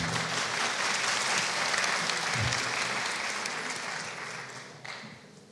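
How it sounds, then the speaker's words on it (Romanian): Sustained audience applause at a chemistry graduation ceremony in a hall, dense steady clapping that gradually tapers off toward the end. "vă rugăm să ne aplaudați"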